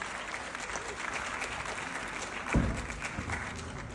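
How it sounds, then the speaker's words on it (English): Audience applauding after a lively traditional Indian dance performance at a Nritya Rachana competition: steady, dense clapping from a crowd throughout, with a louder thump or burst partway through as the applause continues. "Have another round of applause for this lively performance."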